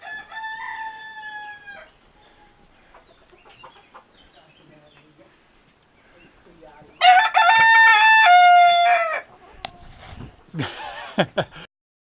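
A rooster crows several times on a hillside stretch of the Camino near Triacastela, Spain: loud, close, drawn-out cock-a-doodle-doo calls, one at the start and a long one in the middle. Someone speaks briefly between the calls.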